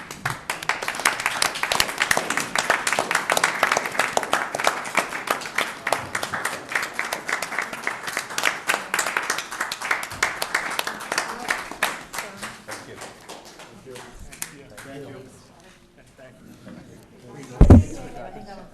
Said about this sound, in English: I'm going to stand up and give them a round of applause myself